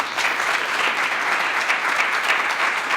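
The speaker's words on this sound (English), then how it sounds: "Let's give them all another round of applause." An audience at a Denton Chamber of Commerce city council candidate forum gives a sustained, dense round of applause, loud and even throughout.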